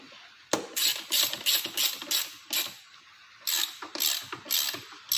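Quick bursts of ratchet clicking from a 3/8-inch drive ratchet tightening crash bar bolts on a KTM 390 Adventure motorcycle, about a dozen close, steady strokes in two runs separated by a short pause.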